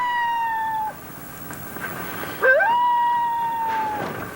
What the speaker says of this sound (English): That's the call of the walrus.